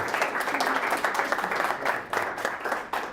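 An audience claps in a room, a moderately near burst of applause with individual claps audible, swelling and dipping in waves.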